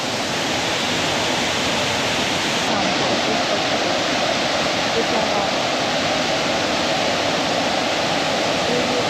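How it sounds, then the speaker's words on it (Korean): Water rushes continuously down a stream below the Sam Rong Kiat waterfall in Thailand, a loud, steady broadband roar close by that never lets up. "그리고 이렇게 물이 흘러내리는 개천이라고 그래야 되나?"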